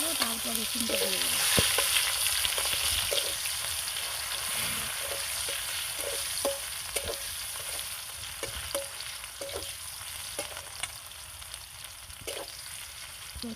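Chicken meat frying in a pan with little oil, a steady loud sizzle throughout, broken by occasional soft clicks and scrapes as it is stirred.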